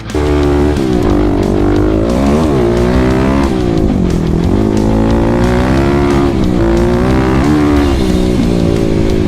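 Kawasaki KLX300 dirt bike with a full Barkers exhaust system, engine revving hard and climbing through the gears, a loud, close, continuous roar with pitch sweeps up and down.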